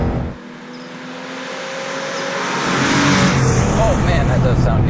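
A Porsche RS sports car's engine hums at idle, then revs and swells steadily louder over several seconds, close by and fairly loud, with people talking over it.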